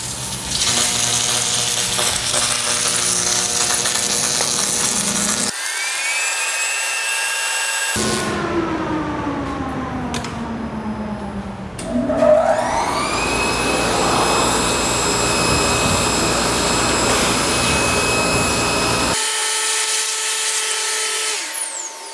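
A submerged arc welding machine with a flux hopper runs loud and close, a steady mechanical roar and whine with motor tones sliding up and down in pitch, cutting out briefly and starting again.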